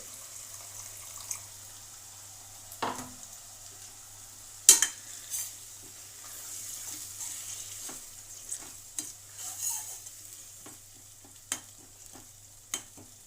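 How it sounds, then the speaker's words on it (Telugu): Tomato paste thinned with water cooks in a pan for tomato rice, a faint low simmer broken by occasional sharp spoon knocks and a short splash. "టమాటా పేస్ట్ పచ్చివాసన పోయే వరకు ఉడికిందండి"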